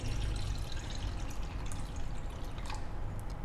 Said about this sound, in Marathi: त्याच्यात पाणी टाकून घेते.